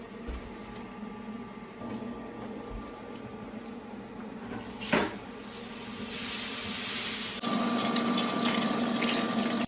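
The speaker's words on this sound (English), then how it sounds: "So I just washed these under the sink and I'm just drying them all off now." Grill grates being washed under a kitchen sink tap, a steady running-water and spray wash that swells louder partway through, with a brief clatter near the middle and no talking.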